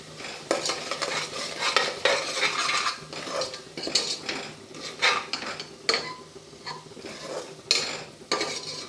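Spices and chilli powder are sautéed in a pan for masoor rice, with an irregular series of metal spoon scrapes and clinks against the pan over a faint sizzle, fairly close and without talk.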